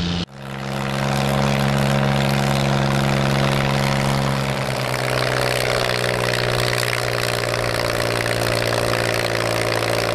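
A tractor pulling a weighted sled at a tractor pulling contest roars up after a brief lull into a loud, sustained low engine drone with a steady harmonic hum, no voices.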